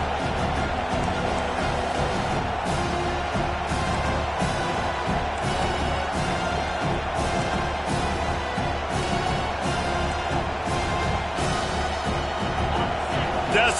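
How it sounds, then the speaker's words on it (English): Stadium crowd at a football game roaring steadily in support of the defense on third down, a dense continuous wall of cheering and noise with no pauses. "Decibels rising as the crowd gets behind this defense on third down."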